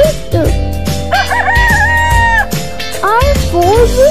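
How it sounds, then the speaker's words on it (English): A rooster crows loudly and close, with several drawn-out cock-a-doodle-doo calls and clucking, alongside animal-like musical tones in a children's vocabulary lesson. "R for rooster."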